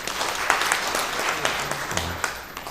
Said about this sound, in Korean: 우리 박수로 한번 환영하겠습니다